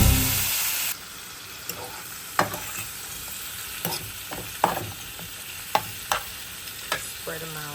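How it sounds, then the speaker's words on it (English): Shrimp sizzling in a hot pan as they are stirred, a steady frying hiss broken by sharp scraping clinks of the utensil against the pan at irregular intervals, close and fairly loud. "Just put the shrimp in there."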